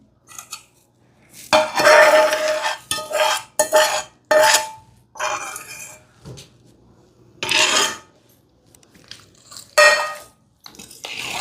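Raw tomato aavakaya pickle with fresh tempering is mixed by hand in a metal vessel, giving repeated close scraping and clinking strokes in irregular bursts separated by brief pauses, with no voices.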